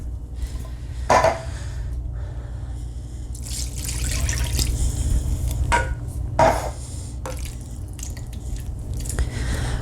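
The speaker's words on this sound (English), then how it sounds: "I'm going to add my tomatoes and beef broth" Tomatoes and beef broth poured into a large crock pot for hamburger soup, with wet splashing and dripping, a couple of sharp clunks from the containers, and a running liquid wash that builds midway, close and fairly loud with no talk.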